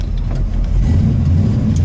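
A blue 1967 Chevrolet Camaro RS SS with a 350 engine and four-speed manual drives by, its engine a loud, steady low rumble that swells slightly as it pulls, heard alone and close.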